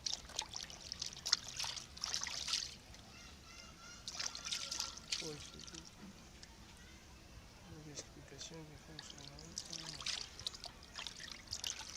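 Cooking ingredients are rinsed under water, with intermittent trickling, splashing and dribbling in bursts over several seconds while a person talks throughout.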